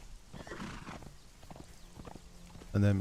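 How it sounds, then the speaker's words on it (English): A horse in the video game Conan Exiles clip-clops with quick hoofbeats and then gives a loud, close neigh at the end. "And then miraculously, your horse appears behind you."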